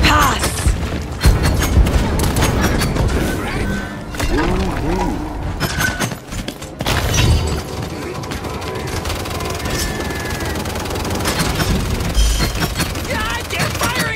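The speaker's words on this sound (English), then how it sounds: "they're firing on us" Gunfire and explosions in the game Paladins, with dense shooting, booms and shattering impacts layered loudly throughout and character voices speaking over the combat.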